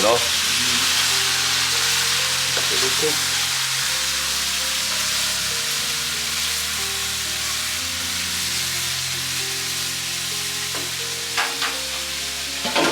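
Pork frying in a pan until crispy for a Tibetan pork curry: a loud, steady, close sizzle that holds throughout, with a few stirring scrapes near the end.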